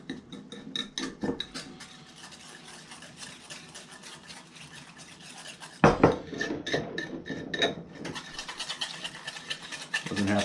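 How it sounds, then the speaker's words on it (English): Yeast mixture being whisked in a bowl for cinnamon roll dough, with continuous clinking and scraping of metal against the bowl, steady and close, growing louder and busier in the second half. "So with this, just going to whisk this together."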